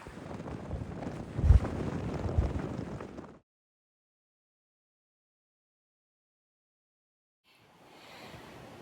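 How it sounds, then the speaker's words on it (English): Strong wind gusts buffet the microphone on a hilltop, a loud rushing blast with thumping peaks that stops abruptly into silence, then a fainter gust returns at the end. "There are some serious wind gusts up here"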